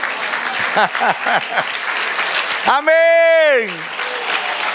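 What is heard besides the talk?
congregation applause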